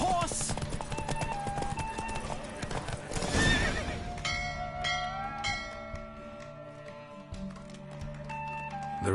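A horse in the video game Witcher 3 gallops hard during a race, its hooves clip-clopping in a steady rhythm. It gives a loud whinny partway through, set against game music and ambience.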